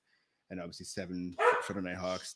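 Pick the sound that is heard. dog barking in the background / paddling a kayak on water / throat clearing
dog barking in the background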